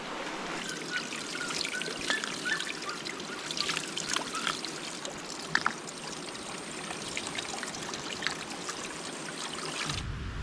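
A clean river flows in a steady, bright trickling rush with small splashes scattered throughout, continuous and close, with no talking.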